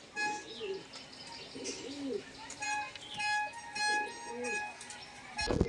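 Madrasi pigeons cooing close by, several soft, rolling coos repeated in a loose rhythm, with faint chirps and other background sounds around them and a brief knock at the end.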